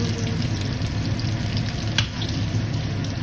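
Food, with whole garlic among it, fries in hot cooking oil with a steady, close sizzle and crackle that runs unbroken throughout, with no talk.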